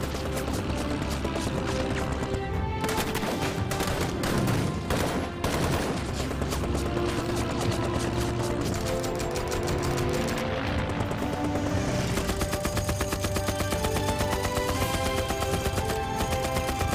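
Anti-aircraft guns of a Red Army unit fire on three incoming enemy planes flying along a river, a dense, loud, continuous fusillade of overlapping shots and bursts with no letup.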